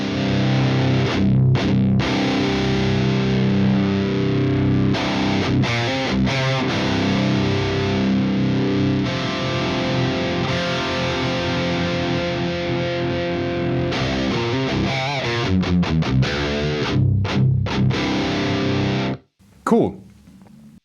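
Electric guitar played through a distorted Marshall Silver Jubilee 2525H amp, with the lead master pushing the power tubes: a thick, sustained overdriven tone with chords and riffs that runs loud and steady, then cuts off abruptly near the end.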